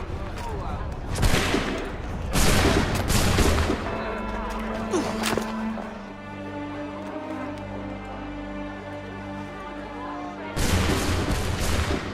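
Volley of musket gunfire in Assassin's Creed 3, several loud noisy bursts of shots in quick succession, then a ringing, droning stretch before another heavy burst, with voices in the scene.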